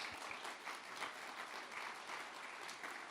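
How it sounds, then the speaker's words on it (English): Audience at the Eurasian Media Forum 2019 opening ceremony applauds steadily, a dense wash of many hands clapping that holds evenly through the whole stretch at moderate distance. "Please, a big round of applause for everyone who makes this happen."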